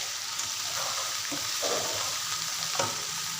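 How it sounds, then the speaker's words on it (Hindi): Okra (bhindi) frying in well-heated oil, a continuous soft sizzle with a few light stirring scrapes, fairly quiet and without voices. "भिंडी को अच्छी तरह से सेक लगना शुरू हो गया क्योंकि हमारा ऑयल अच्छी तरह से गर्म था"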